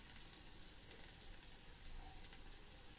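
Potato pieces sizzling as they fry in hot oil with onions for chapati noodles, a faint, steady crackle with small popping bursts and no voices.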